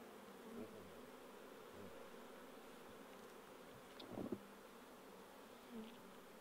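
Bees hum around a beekeeper working without a suit at hives in Alaska, a faint, continuous buzz with a few louder passes of individual bees close to the microphone.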